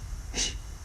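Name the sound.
candle breathing, forceful exhale through the mouth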